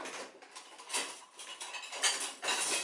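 A kitchen knife cuts through a large onion on a board, quartering it: a quick run of close, crisp chopping knocks and blade taps, with no talking.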